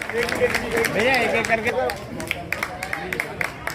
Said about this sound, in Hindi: अब बजाइए जोरदार ताली